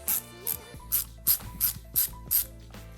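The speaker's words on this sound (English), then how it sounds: "These are T20 bolts. We've got T20 on our screwdriver here" A ratcheting screwdriver with a T20 bit backing out bolts on an 8th-generation Honda Civic shift boot, giving seven evenly spaced loud clicking ratchet strokes, close up with no talking.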